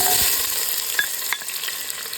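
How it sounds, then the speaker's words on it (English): Onions and garlic sauté in olive oil in a preheated pot, giving a steady close sizzle with a few sharp spatters and light clicks throughout. "Now I'm going to add in my onions and garlic."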